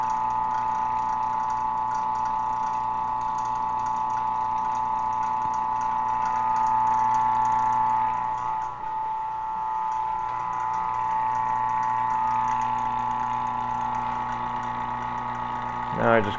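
Vacuum pump running in a lab, giving a constant mechanical hum with a faint rhythmic chatter; it dips briefly midway and then settles back to the same even drone.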